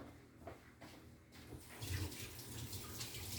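Tap water runs into a sink as a cast iron skillet is rinsed, a soft steady rush that grows louder and fuller halfway through, close by with no talking.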